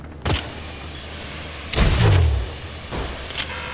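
Gunfire in the video game Syndicate: a few separate heavy shots, each a loud boomy burst, with the biggest and longest one in the middle and fainter cracks before and after it.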